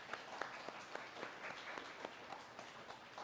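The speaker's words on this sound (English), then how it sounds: "Give them a round of applause." Scattered applause from an audience at a K9s For Warriors service dog graduation in Ponte Vedra, Florida, quiet and thin, with individual claps standing out over about three seconds.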